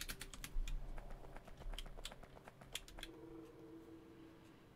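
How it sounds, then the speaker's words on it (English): Fingers tap a computer keyboard during a Factorio game session, a quick run of close, crisp keystrokes that stops after about three seconds, leaving a faint hum. "Oh, it's easier to type it."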